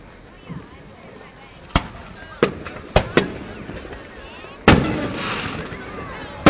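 Fireworks bursting during a Fourth of July display in West Allis, Wisconsin: several sharp, loud booms at irregular intervals, the last followed by a lingering crackle, with crowd noise in between.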